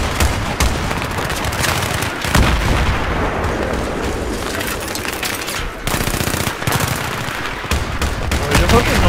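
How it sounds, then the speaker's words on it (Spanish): Dense gunfire in the Battlefield 3 video game, with rapid automatic bursts and heavy explosive booms overlapping continuously, loud and close, under faint shouted player voices. "¡Disparos desde la izquierda!"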